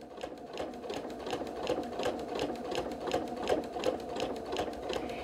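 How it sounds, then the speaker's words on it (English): A sewing machine quilting with a walking foot runs in a quiet, even rhythmic chatter of rapid stitches, continuous and close but soft, with no one speaking. "Again, Angel, it's a walking foot, not a running foot. Nice, even stitches."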